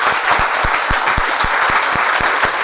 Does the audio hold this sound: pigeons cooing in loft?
no